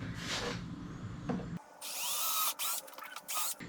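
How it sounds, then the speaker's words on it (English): A power drill with a small bit whirs in bursts, starting and stopping a few times as it bites into material drilling a pilot hole, close and fairly loud. "First, we're going to drill a pilot hole with a small bit."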